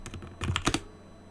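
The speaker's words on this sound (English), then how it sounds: "if we were to type in the IP address again, but this time with root" A quick burst of clicky keystrokes on a computer keyboard, close and crisp, about a dozen taps in under a second before stopping.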